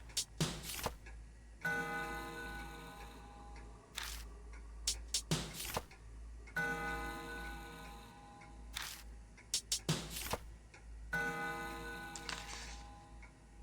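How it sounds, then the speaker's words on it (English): A clock in the horror game Spirit Hunter: NG sounds in quiet repeated bursts of ringing tones. Sharp clicks and taps come between them over a low hum, with no voices. "The clock it makes a noise."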